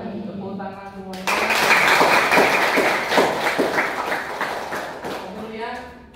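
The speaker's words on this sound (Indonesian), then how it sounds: "Tepuk tangan semuanya." An audience breaks into applause after a discussion, a dense burst of clapping that swells and holds for several seconds before fading, with speech just before and after it.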